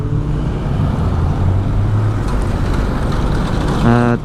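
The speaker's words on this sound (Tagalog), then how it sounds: "traffic" Road traffic in Tagaytay, a continuous close rumble of car and bus engines with a brief rising whine near the end, no voices over it.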